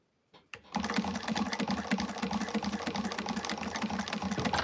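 A sewing machine runs steadily after a couple of brief starts, basting stitches across fabric layers and over a thick connector seam, with a fast, even mechanical chatter and no talking.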